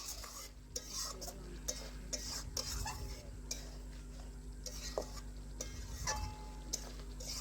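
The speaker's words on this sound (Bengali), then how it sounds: "আবার একটু কিছুক্ষণ নাড়াচাড়া করে আমি ভেজে নিচ্ছি।" Mutton is stirred and fried in a pan with little water left, a spatula scraping in quick repeated strokes over a soft, steady sizzle.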